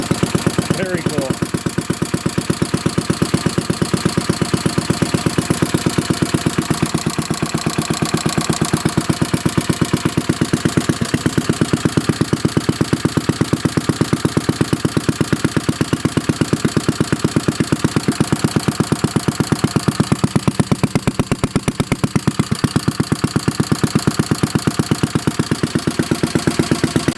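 A 1937 Briggs and Stratton Model A small gasoline engine idles steadily and loudly nearby, its rapid, even chugging pulses continuing unbroken throughout.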